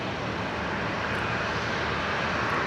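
A Boeing Dreamliner bound for Osaka roars loudly down the runway on takeoff at Brisbane Airport, a dense, steady broadband jet rush with no voices.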